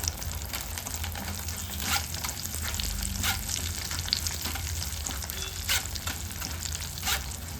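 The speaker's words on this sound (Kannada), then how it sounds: "ಕೊನೆಯದಾಗಿ ಅವಲಕ್ಕಿ ಹಾಕೊಳ್ಳೋಣ. ಸ್ವಲ್ಪ ಸ್ವಲ್ಪ ಹಾಕೊಂಡು ಹುರ್ಕೋಬೇಕು." Flattened rice (avalakki) deep-fries in hot oil for a seasonal avare mixture snack, a constant close hiss of bubbling oil broken by repeated sharp crackles and stirring clinks, with no one speaking.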